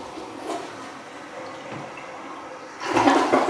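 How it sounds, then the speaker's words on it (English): A household toilet being flushed after being unclogged, with steady running water that swells into a louder rushing surge near the end, close by and with no talk. "let's flush the toilet one more time"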